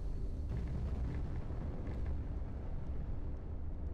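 A deep, rumbling detonation roar from the demolition game ABRISS, a continuous heavy low-frequency wash of collapse and debris filling the whole stretch without a single sharp attack.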